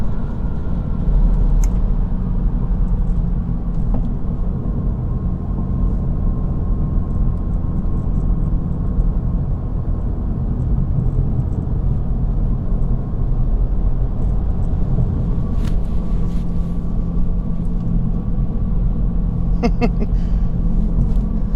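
A 2020 Mini Cooper S 4-door cruises along with a steady low engine drone and road rumble heard from inside the cabin, continuous and fairly loud, with a few faint clicks and ticks.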